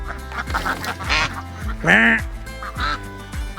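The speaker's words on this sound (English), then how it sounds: "Hey, duckies." Ducks on a farm quacking repeatedly in a close, loud rhythmic series, with several bursts of calls overlapping one another.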